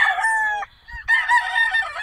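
A white Kelso gamecock stag with a straight comb and yellow legs crows twice at a game farm: a loud, close, ringing call, a short pause, then a second longer crow.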